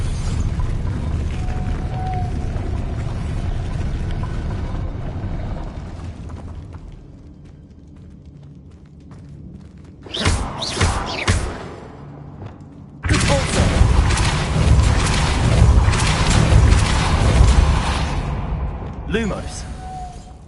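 A spinning mechanism grinds and rumbles as it raises a platform in Hogwarts Legacy, with deep booming bursts and heavy mechanical movement swelling loudly over an ambient game background.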